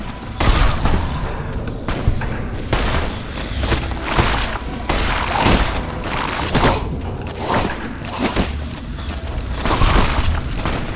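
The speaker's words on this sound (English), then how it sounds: "Now's the time to be shooting." Gunfire in the video game Fallout New Vegas: repeated booming shots and bursts over about eleven seconds, loud and continuous, with cracks and thuds layered over a steady rumbling game backdrop.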